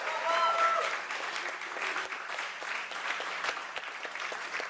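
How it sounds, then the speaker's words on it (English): Steady audience applause at a political fundraiser, sustained clapping from a medium-sized room that swells early then holds, with scattered faint voices beneath. "And so if you can give them a big round of applause, please"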